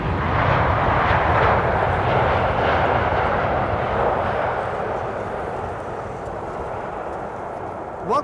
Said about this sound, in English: Welcome to opposite land where KLM uses the reversers and a triple freighter doesn't.